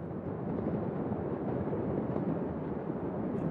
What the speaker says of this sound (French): Suivi de crépitements intenses, ce sont les feux d'artifice.